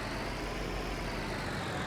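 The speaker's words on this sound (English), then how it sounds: "I've got to admit, that engine sounds amazing. What a roar." New Holland tractor engine in Farming Simulator 19 hauling a bale delivery, a steady, loud broadband roar with a deep low rumble holding constant throughout, no voices over it.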